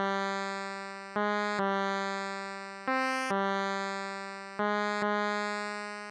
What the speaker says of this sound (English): The second sound that I added was just a saw.